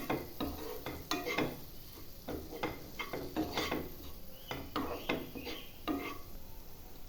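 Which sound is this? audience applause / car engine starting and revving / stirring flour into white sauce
stirring flour into white sauce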